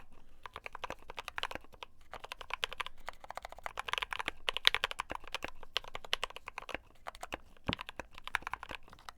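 Rapid, steady keystrokes on a GMMK Pro mechanical keyboard during a typing test, a dense clacking flurry that runs unbroken close up, with no voices.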